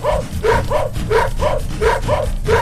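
A cartoon dog barking in a steady series of about six sharp, evenly spaced yaps, loud and close, with no talk over them.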